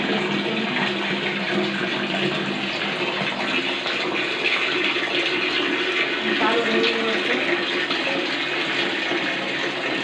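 Water runs steadily into a container, a constant rushing, gushing flow that lasts throughout, with a voice speaking faintly beneath it.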